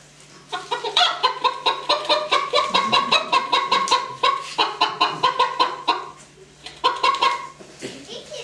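Chickens cluck in quick repeated bursts, close and fairly loud, with short pauses between runs of calls.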